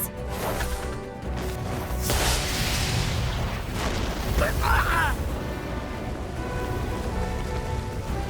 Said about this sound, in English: What was that explosion back there?